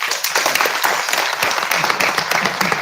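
Audience applauds at a school mathematics workshop closing ceremony, a lively close round of clapping with quick individual claps running throughout.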